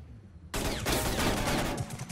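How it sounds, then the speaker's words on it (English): Rapid automatic gunfire in a vehicle combat video game, a loud sustained burst of overlapping shots that starts abruptly and rattles on without pause. "I don't even know where we're getting shot from"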